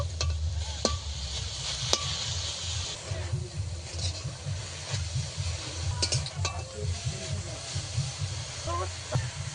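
Drumstick greens being stirred in a pan as the water cooks off, with a soft sizzle and hiss and a rhythmic scraping of the spoon, close, plus a few light utensil clinks.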